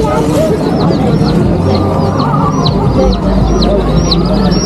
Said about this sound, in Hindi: और मुर्गी के बच्चे भी है।